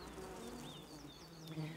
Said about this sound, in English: During robbing, bees get worked up into a frenzy, killing each other and causing pandemonium in your apiary.